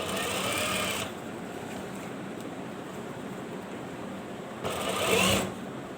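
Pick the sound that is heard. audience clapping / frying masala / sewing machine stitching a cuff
sewing machine stitching a cuff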